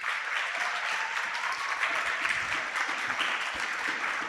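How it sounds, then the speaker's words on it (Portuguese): A church congregation gives a round of applause for a family during a worship service, a full, sustained patter of many people clapping, continuous and fairly close. "Eu gostaria que você desse uma salva de palmas a essa família."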